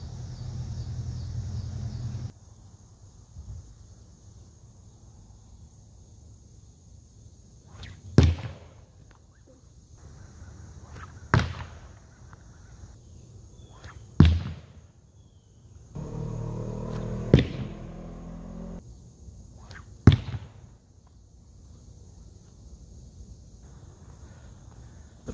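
Slung stones striking a bone target mounted on a padded board, four or five sharp, loud cracking impacts spaced a few seconds apart, with quiet shuffling and rustling in between and no talking.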